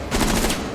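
A short, close burst of rapid automatic gunfire in the video game Rainbow Six Siege, loud and dense for under a second.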